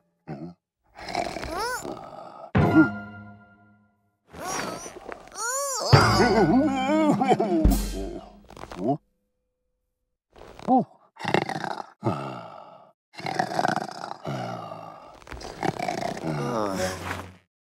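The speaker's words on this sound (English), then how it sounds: "They slept on top of a snoring sheep." A cartoon sheep snores in repeated groaning, roaring breaths separated by short pauses, loud and close, with the snores sounding voiced by a person.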